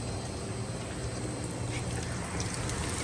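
Long-awaited rain falls after a dry spell, a steady close hiss of drops with scattered sharper spatters, constant in level and free of speech.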